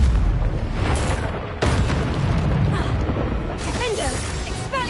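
Fiery Confringo spell blasts in Hogwarts Legacy, a dense run of booming, crackling explosive bursts with mechanical clatter, loud and close, cut off abruptly around the middle before resuming.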